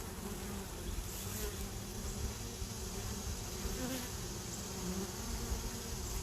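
Honey bees hum in a dense, continuous drone close by, with many wings layered into a steady buzz that never pauses, no voices over it.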